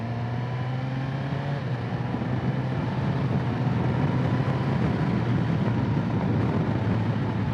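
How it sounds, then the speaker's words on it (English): A 2022 Suzuki GSX-S1000 GT Plus motorcycle engine drones steadily and close, its pitch climbing and shifting as it runs quickly up through the gears with a quickshifter, under constant wind roar. "Really nice quick run through the gears there."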